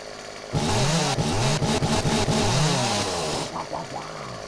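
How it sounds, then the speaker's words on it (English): A chainsaw in the video game 7 Days to Die roars to life and revs in loud, wavering pulses, holding a buzzing drone for about three seconds before cutting off. "from my super power chainsaw"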